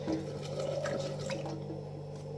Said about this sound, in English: So just fill that up with water.